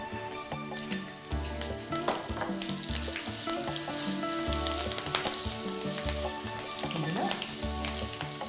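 Green chillies fry in hot oil with turmeric, giving a steady close sizzle and crackle with occasional stirring clinks over a constant low hum, no voices.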